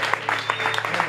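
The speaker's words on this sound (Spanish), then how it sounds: "Fuerte aplauso para Pablito" Audience applause at a tango performance, a brief burst of dense clapping from a crowd, steady and fairly close.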